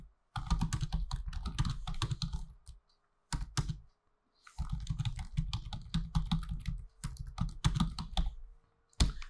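A computer keyboard is typed on in Final Draft screenwriting software. Close, rapid clattering keystrokes come in several bursts, separated by short silent pauses.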